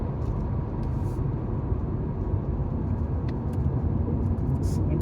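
A Volkswagen Taigun 1.0L TSI takes a corner at speed on a bridge, heard from the cabin as a steady, dense road and engine rumble with tyre noise, constant and fairly loud with a few faint high clicks.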